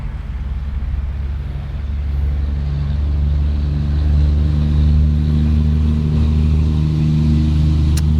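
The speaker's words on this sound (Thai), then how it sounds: "เสียงรถค่อนข้างดังครับนะ" Cars passing steadily on a nearby road beside a natural-water fishing spot at a canal mouth, a continuous loud traffic rumble with rising and falling engine passes, no talk.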